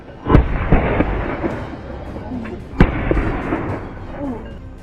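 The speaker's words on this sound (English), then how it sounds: "The gunshots are crisp." Gunshots fired at wild boar in a cornfield: sharp, loud cracks in the open, the first two close together and another a couple of seconds later, over a rumbling background with a voice.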